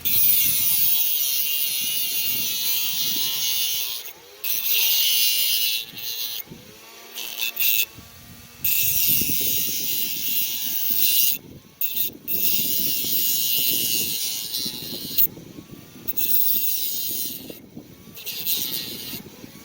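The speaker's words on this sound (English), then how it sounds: "so all I'm going to do is just grind out a few of these with the Dremel" A Dremel rotary tool grinding metal on a Delco-Remy regulator, a loud high whine that cuts in and out in repeated bursts with short pauses between passes.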